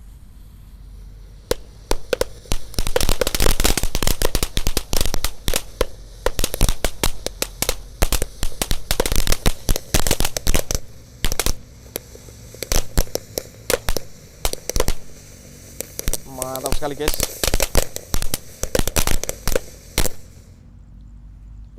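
Firecrackers set off inside a hole in the ground crackle in long, rapid bursts of sharp pops, loud and close, with a brief lull midway and a short whistling squeal near the end, while someone speaks briefly.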